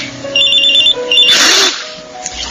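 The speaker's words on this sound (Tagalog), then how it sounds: "may napatawag sa cellphone ko" A cellphone rings with an incoming call in a radio drama, a loud close electronic ringtone with repeating tones and a brief burst, no talking over it.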